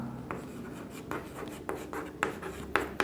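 Chalk or marker writing on a board in a physics class on AC circuits, a run of soft scratching strokes with a few sharper taps, fairly quiet and close.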